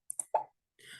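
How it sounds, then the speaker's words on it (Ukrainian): A few quick, light pops in succession from the Scratch pop sound effect, bright and close, followed by a brief soft hiss. "Стандартний це звук поп,"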